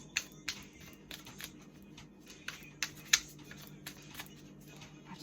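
Tarot cards being shuffled by hand, giving soft, irregular riffling flicks and taps at close range in an otherwise quiet room.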